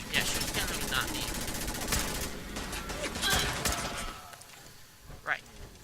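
Rapid bursts of automatic gunfire in Fallout 4 as enemies are shot, rattling volleys that come and go, with a voice speaking over the shooting.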